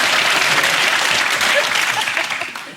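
A live comedy audience bursts into loud, dense applause that holds steady and then begins to fade toward the end, close and full with no voices over it.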